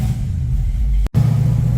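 A 1967 Ford Mustang engine on a test drive, a loud steady low rumble heard from inside the car, cut by a brief dropout near the middle before it resumes.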